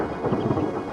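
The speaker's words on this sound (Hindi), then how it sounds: "इनमें सिर्फ गरज और बिजली है" Rolling thunder from storm clouds over dry plains, a continuous low rumble without breaks and with no rain falling.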